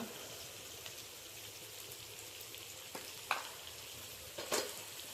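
Mutton coated in cumin, turmeric and chilli powder fries quietly in a pan, a faint, soft sizzle with a few sharper scrapes and clinks as it is stirred near the end.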